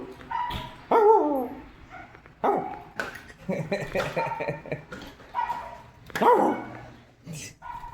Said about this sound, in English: Oh, you hear that dog?